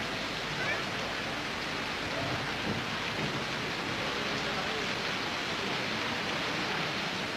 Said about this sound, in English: Winds blow in from the Gulf of Bengal and bring torrential rains, which last up to October.